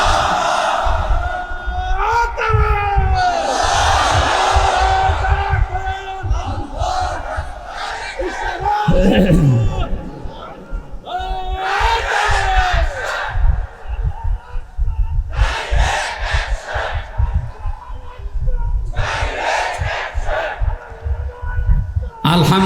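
A large crowd at an outdoor Bengali Islamic waz sermon by Mufti Amir Hamza roars the takbir response in loud, repeated surges, each answering a preacher's amplified call between them.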